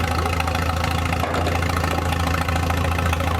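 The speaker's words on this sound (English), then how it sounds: "Coming up is a 1947 Farmall 8, owned by Jordan Medkey from Valencia." A 1947 Farmall tractor with a rebuilt engine chugs at a steady idle in an antique tractor show parade, close and continuous with a low, knocking rhythm.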